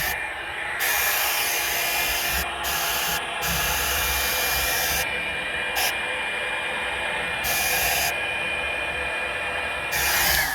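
A hair dryer blows steadily on an acrylic paint pour, a loud continuous whooshing roar that runs throughout with brief dips in airflow.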